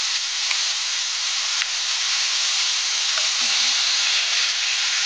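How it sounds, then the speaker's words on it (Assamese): Kandhuli fish fries in hot oil, making a loud, even hiss and sizzle that holds steady with a few faint clicks along the way. "এতিয়া মাছখিনি ভালকৈ ভাজি ল'ম"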